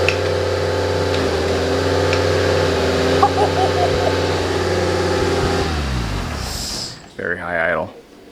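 Exocet kit car creeping backward in reverse under its own power, a steady mid-pitched engine hum that fades out near the end, with a voice breaking in over the last second.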